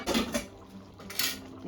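A tawa griddle being set down on a gas stove to make rotis: two close, fairly loud metallic clanks and scrapes with a brief pause between them, no voices.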